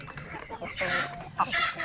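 Native chickens cluck softly nearby in a few short, uneven bursts, with faint background noise.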